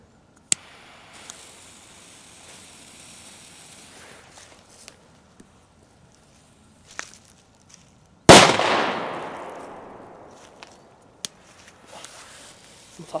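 C-Böller firecrackers set off on a New Year's Eve afternoon: after a few faint scattered pops, one loud close blast cracks out and rolls into a long fading rumble, followed by a few light ticks.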